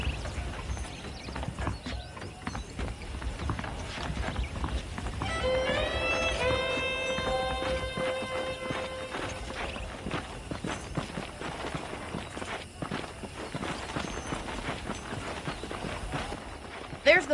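Hooves clip-clop at a steady walking pace throughout, with a horse's whinny partway through and game ambience in the background, in Red Dead Redemption.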